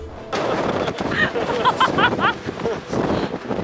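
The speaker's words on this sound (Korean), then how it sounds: "역시나 초강력 바람 서있기도 힘들다" Very strong desert wind of about 43 mph at the Trona Pinnacles and Ballarat camping area roars and buffets the microphone in a steady loud rush, with voices faintly underneath.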